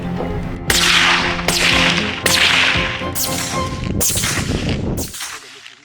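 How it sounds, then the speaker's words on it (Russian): Several sharp, loud rifle cracks go off one after another at roughly regular intervals, each followed by a ringing, decaying echo in mountains. "Произвели выстрел, пуля в пулю"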